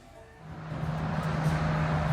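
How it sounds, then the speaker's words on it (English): Outdoor roadway traffic mixed with gusting wind and construction work next door, a steady broadband rumble with a low engine hum that swells and stays loud for a couple of seconds. "the traffic and the wind and construction going on next door"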